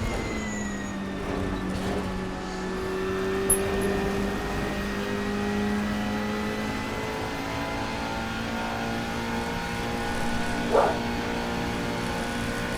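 The RSS Lanzo V8 in a racing video game hums in a long, steady, rising engine drone on the Lake Blacina circuit reversed, loud and continuous with only a couple of brief knocks.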